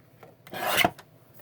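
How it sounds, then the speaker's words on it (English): A paper trimmer blade slides through a sheet of cardstock in one quick rasping stroke of about half a second, close and fairly loud, with no talk. "So I'm just gonna trim it on here to 2 3/8."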